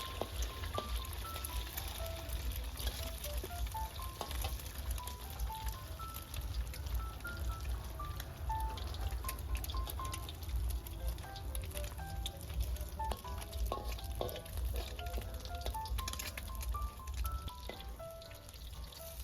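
Eggs fry in a hot pan with garlic for Chinese sausage fried rice, a steady crackling sizzle that continues evenly throughout, no talking.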